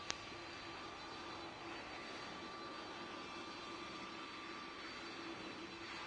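A fixed-wing airplane comes in to land in the Roblox video game, its engine making a steady, low, unbroken drone at moderate loudness after a brief click, with no talking.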